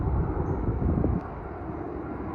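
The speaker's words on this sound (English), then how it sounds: "Anyways, here comes an airplane." An Air Canada airplane passes overhead along a trail in a Toronto neighbourhood, a broad low rumbling roar with wind noise that drops slightly partway through and carries on steadily.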